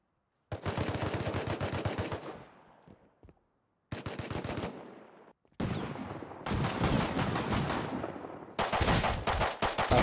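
Automatic gunfire in the survival video game Rust, with loud, rapid bursts of shots in several long volleys separated by brief silences, each burst close and sharp with echoing tails.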